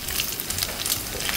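Bacon fries in a pan for bacsilog, a loud, steady, close sizzle and crackle that runs the whole time without speech.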